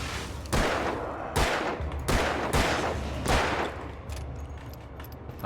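Heavy gunshots in the game Alan Wake, five loud, booming reports spaced roughly a second apart, each with a short decaying tail over a steady low background.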